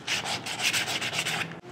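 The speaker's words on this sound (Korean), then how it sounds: "이제 사포 작업을 해서" Hand sanding of hardwood with sandpaper while finishing a wooden owl-shaped Bluetooth speaker: rapid, rhythmic back-and-forth scratchy strokes, close and steady, with no talking.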